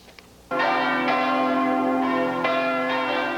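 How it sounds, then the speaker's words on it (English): Church bells in Paris ring out loudly after a short quiet moment, a rich sustained peal with overlapping tones and a fresh strike about every second. "The bells of Paris ringing out today, the city's joy over its liberation."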